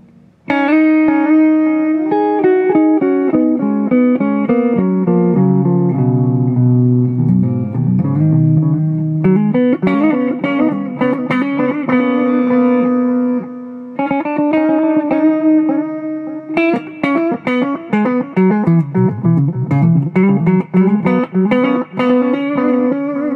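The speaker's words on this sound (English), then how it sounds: "turn the delay up all the way" Electric guitar notes through an MXR Carbon Copy delay pedal set to maximum delay, each phrase repeating and smearing into the next, with steady sustained tones and no talking.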